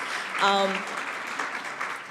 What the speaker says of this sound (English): maybe another round of applause for the thank you